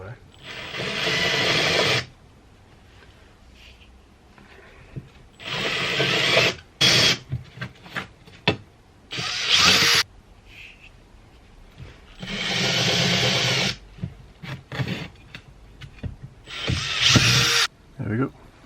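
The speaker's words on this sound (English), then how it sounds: "I'll get the drill out now." A handheld power drill boring 3mm holes during a Volkswagen T6 camper conversion, with several loud whirring bursts of a few seconds each, separated by clicks, handling noises and brief quiet gaps.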